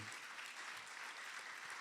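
A church congregation applauding steadily, a dense wash of clapping with no pauses throughout.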